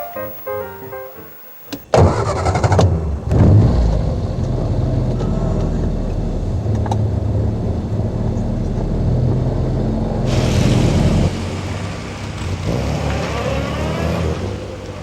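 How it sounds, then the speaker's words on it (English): Triumph Herald convertible and saloon cars starting up with a sharp burst and then driving steadily, a continuous engine rumble that changes character near the end, with no talk. "Out for a drive today are Steve and Chris of the Triumph Herald Motoring Club in the convertible and saloon models"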